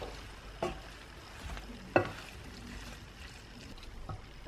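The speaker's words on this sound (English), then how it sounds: "And I'm going to give that a stir." A spoon stirs Quorn chilli con carne with freshly added chopped peppers in a pan, giving a low scraping, shuffling texture with a few soft knocks, fairly quiet and without speech.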